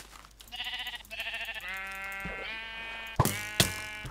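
Sheep in the video game TerraFirmaCraft, a Minecraft mod, bleat several times in close succession, nasal wavering calls near and clear, with a couple of sharp game clicks toward the end.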